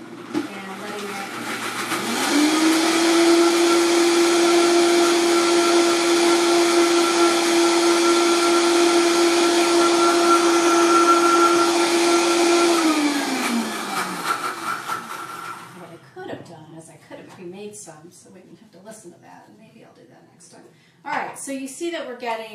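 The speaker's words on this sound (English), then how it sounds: "whenever you restart a blender is to turn it all the way to low so you're not starting it on high" A kitchen blender whirs steadily while blending miso-macadamia dressing, a loud constant motor drone lasting about twelve seconds before winding down, followed by a person talking close by.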